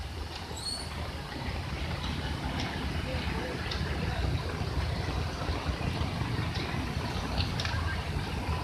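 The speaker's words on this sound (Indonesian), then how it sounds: "Hempasan air terjun yang sangat dahsyat." Torrential floodwater crashing down the overflowing Lembah Anai waterfall in West Sumatra, a steady, dense roar of broadband rushing water held at constant loudness throughout, with no pauses or distinct events.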